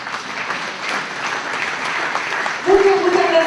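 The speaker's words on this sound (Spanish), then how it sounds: "un aplauso por la realidad de Sopa." An audience at a cooperatives panel claps steadily at moderate loudness. Near the end a voice starts speaking over the fading applause.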